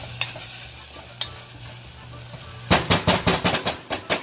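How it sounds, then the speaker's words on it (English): Tomatoes cook down in a pan for a chickpea stew, softly sizzling at first, then a spoon stirs them in a quick run of scraping strokes, loud and close. "let these tomatoes get cooked down. Stir them really well."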